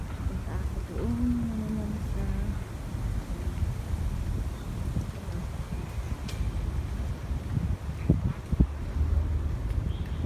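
Wind buffets the microphone in a low, continuous rumble at Ap Lei Chau, Aberdeen, Hong Kong, with faint distant sounds and brief knocks in the background.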